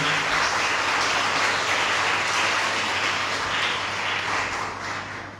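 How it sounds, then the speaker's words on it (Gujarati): A roomful of people at a talk event clap in sustained applause, a thick even patter that tapers off slightly toward the end. "આપણે ફરી એકવાર એમને તાળીઓથી વધાવીએ"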